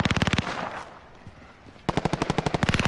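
Rapid bursts of machine gun fire in Call of Duty Modern Warfare, a loud stream of evenly spaced shots, a brief pause, then another sustained burst, close and sharp.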